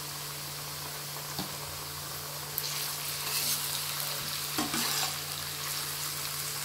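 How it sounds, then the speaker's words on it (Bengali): Ginger garlic paste frying over low heat in a pan for an egg curry, a soft, steady sizzle with a few stirring scrapes and clinks, close and quiet over a faint hum, without talk. "এখন দেবো 1 চামচ আদা রসুন পেস্ট"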